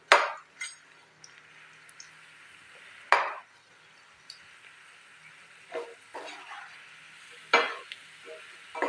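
Potatoes are deep-frying in hot oil in a kadai for chilli potato, giving a soft steady sizzle. Louder scraping stirs and clinks of a spatula against the metal pan break in at intervals.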